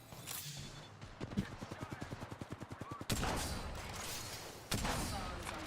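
Rapid automatic gunfire in Apex Legends: a quick, even burst of shots at moderate level, followed by two louder, sharper blasts, with game voice lines around them.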